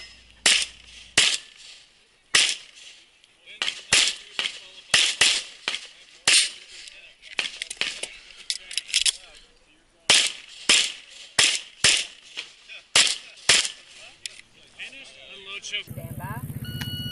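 Pistol shots fired at an IDPA shooting stage during a national championship, sharp loud cracks in quick strings and pairs with short pauses between groups, followed by a burst of noise at the end.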